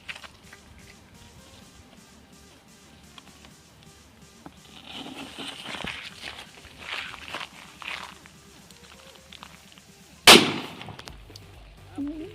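A shanti bomb firecracker set under a bucket during a Diwali firecracker challenge: footsteps and shuffling lead up to a single sharp, very loud close blast near the end, followed by brief rattling.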